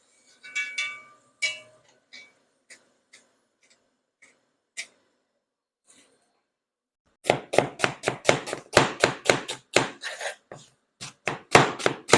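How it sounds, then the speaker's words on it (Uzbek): A knife chops onion rapidly on a cutting board in a fast run of crisp strikes, following a few sparse, scattered knocks and a brief rustle earlier on. "Mana piyoz to'rg'adik"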